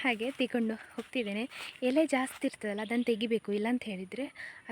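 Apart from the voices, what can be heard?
None of the usual background noises is heard.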